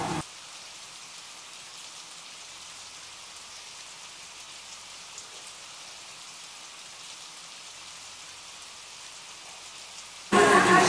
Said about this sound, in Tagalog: ang nadidinig nyo lang yung patak ng ulan sa labas